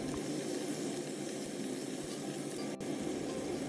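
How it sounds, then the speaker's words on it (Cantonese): Baby cabbage stir-fried with garlic and fermented black beans in a hot oiled wok gives a steady, close hiss and sizzle throughout, with a brief dip near the end and no talking. "再炒佢一陣間。"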